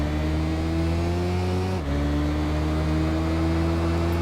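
Racing motorcycle engines in the Tourist Trophy game, a Kawasaki Zephyr among the bikes, hold a steady high-revving drone with a brief dip as the rider shifts gear, then the drone resumes, loud and continuous without talk.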